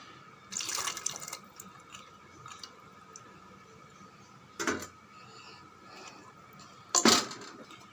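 Water is poured into a bowl of soaking chana dal and dried red chillies in a home kitchen, three short close splashing bursts separated by quiet pauses.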